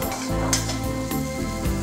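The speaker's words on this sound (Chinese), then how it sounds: "和 XO 酱一起爆香" Garlic, scallion roots, ginger and XO sauce frying in a little oil in a wok, a steady close sizzle with soft stirring scrapes over a low musical background.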